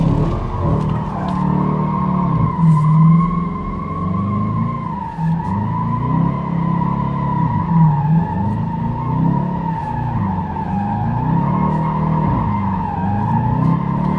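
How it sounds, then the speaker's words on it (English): Dodge Challenger R/T Shaker drifting, its engine roaring steadily while the tires skid and squeal continuously for the whole stretch, loud and close. "you can just drift just like this"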